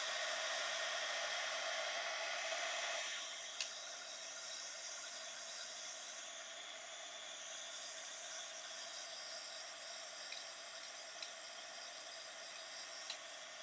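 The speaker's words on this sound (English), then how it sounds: "We're going to take the heat tool, and dry it a minute." A heat tool blows a steady, loud airy hiss close by while drying thick wet paint in an art journal, easing slightly softer after a few seconds and running on with faint small clicks.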